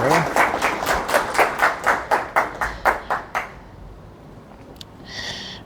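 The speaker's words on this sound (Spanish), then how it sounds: "le damos un fuerte y caluroso aplauso a Juan" An audience claps to welcome a speaker at a talk, about a dozen sharp, evenly spaced claps in unison that stop abruptly. A brief faint noise follows in the near-quiet that comes after.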